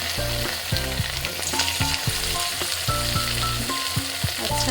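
Pakoras fry in hot oil, a dense, loud bubbling sizzle with irregular pops throughout, alongside a steady humming tone and no talking.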